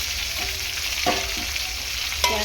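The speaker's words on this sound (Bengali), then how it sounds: "ভালো করে ভাজবো কাতলা মাছটা একটু ভালো করে ফ্রাই করে দিচ্ছি" Katla fish frying in a pan gives a steady, close oil sizzle throughout, broken by a few light scrapes and clinks from stirring, with no voices.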